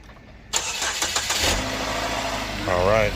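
A Chevrolet Equinox engine cranks and catches after a jump start, settling into a steady idle close by, with a voice speaking briefly over the running motor.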